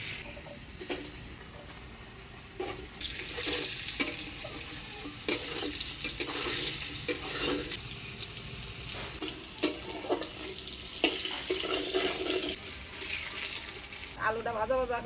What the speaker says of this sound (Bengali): আলুটা ভাজা ভাজা করে নিলাম